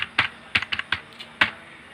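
Someone types a mobile number on a computer keyboard: a close, irregular run of about seven crisp key clicks with short pauses between them, then quiet, with no talking.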